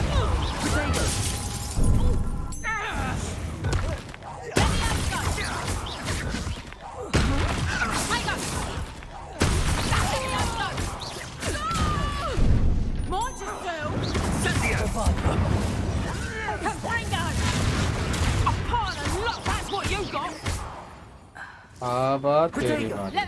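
Bombarda spell explosions in the video game Hogwarts Legacy: repeated loud blasts and crashes with debris, several bursts separated by short gaps, mixed with game effects and someone talking in between.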